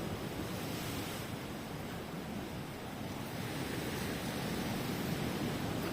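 Sea waves wash steadily onto a Philippine shore, a continuous broadband surf roar close by with wind buffeting the microphone and no voices.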